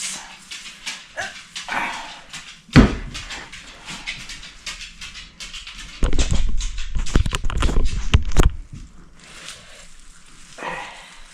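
A puppy indoors barks and whines to be let out, with one sharp yelp early, then a louder run of rapid barks in the middle, followed by quieter whimpering.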